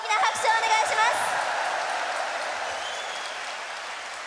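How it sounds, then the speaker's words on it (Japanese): A concert audience applauding the stage staff at a nationwide tour's final concert: a voice talks briefly over the start, then steady, dense clapping carries on alone at moderate loudness. "そしてこの素敵なステージを徹夜で作ってくださった舞台スタッフの皆さんにも大きな拍手をお願いします"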